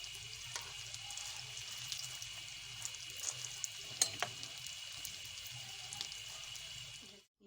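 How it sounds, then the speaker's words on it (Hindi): Potato samosas deep-frying in hot oil, a steady fine crackling hiss with scattered small pops, fairly quiet and close, ending abruptly. "अच्छे फ्राई हो गए हमारे समोसे।"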